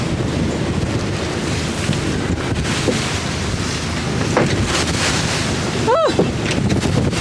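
A boat on rough Lake Erie, its engine rumble buried in a steady wash of wind and waves against the hull, loud and continuous, with brief faint voice-like sounds near the end.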